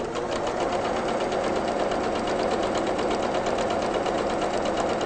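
A sewing machine runs steadily as it stitches half-square-triangle quilt pieces. The motor hums in a fast, even, continuous rhythm, close by and fairly quiet, with no speech over it.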